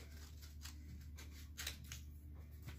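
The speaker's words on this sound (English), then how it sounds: "So I'm going to use the scissors now, just cutting this edge off the paper" Scissors trim the edge off a sheet of origami paper, giving several quiet, close snips at an irregular pace in an otherwise hushed room.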